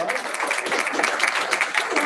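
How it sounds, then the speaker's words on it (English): Applause at a real estate team meeting, dense clapping from a group lasting a couple of seconds, with some talk mixed in. "Give them a round of applause."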